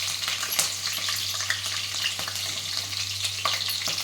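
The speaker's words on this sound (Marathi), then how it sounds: "आता आपण तेलमध्ये मिरची टाकणार आहोत मिरची टाकली तर तेल आपण एकदा परतून घेणार आहोत" Green chilies frying in hot oil give a steady, close crackling sizzle with small spitting pops throughout and no voices.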